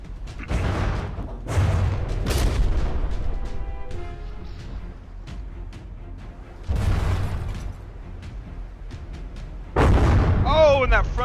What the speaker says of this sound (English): Got those primary shells coming in. Right on that rear single barrel turret.